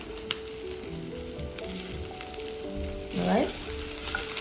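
An onion and Chinese chive omelette sizzles in a pan with a steady frying hiss under a brief spoken word, with a few soft clinks and a scraping shuffle as it is moved.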